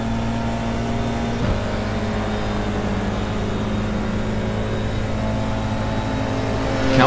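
Open-wheel FIA F4 race car engines in the iRacing sim on a final race lap, a steady droning engine note holding constant with a brief pitch dip near the start, loud and continuous with no talk.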